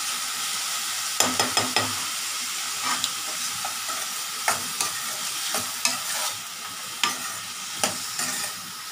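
Ginger garlic paste, onion and tomato sautéing and being stirred in a pan for spicy chole, with a steady low sizzle broken by repeated sharp scrapes and clicks of the spoon against the pan.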